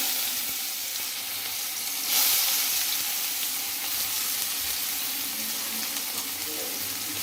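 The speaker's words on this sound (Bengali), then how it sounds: "আলু ভাজার পরে তেলটার মধ্যে মা দিয়ে দিল কালো জিরে, তারা দিয়ে দিচ্ছে পেঁয়াজ" Onions and nigella seeds sizzle steadily in hot oil just used to fry potatoes, a loud close crackling hiss that continues throughout with a brief stronger flare partway.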